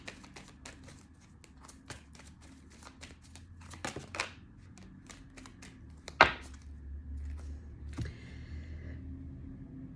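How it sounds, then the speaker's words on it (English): Quick bursts of riffling and soft slapping as a deck of tarot cards is shuffled, with a few sharper snaps and light tapping, fairly close and quiet. "We'll give it 2 more shuffles."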